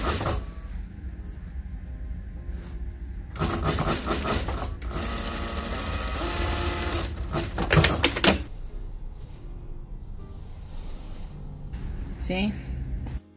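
Sewing machine stitching a vintage robe, bursts of rapid mechanical rattling that start and stop several times, loud and close, with quieter handling noises between runs.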